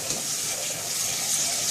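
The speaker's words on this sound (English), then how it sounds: "when washing your rice, just use warm water" Rice being washed and swirled in a bowl of warm water, a steady close splashing and sloshing that runs unbroken for the whole short stretch with no talk.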